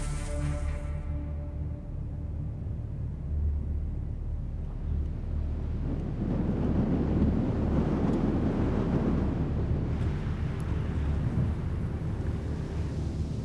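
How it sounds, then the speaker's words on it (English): Strong storm wind roars and buffets the microphone continuously on Geyser Pass near Moab, swelling louder midway with a deep rumbling, gusty texture and no voices. "it's absolutely storming, windy, freezing cold."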